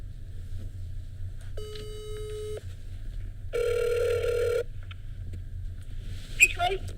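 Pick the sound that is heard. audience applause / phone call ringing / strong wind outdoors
phone call ringing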